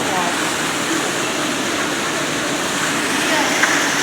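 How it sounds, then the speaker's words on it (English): A waterfall inside the zoo bird house makes a steady, loud broadband rush that fills the whole stretch evenly, with faint voices mixed in. "There's the waterfall."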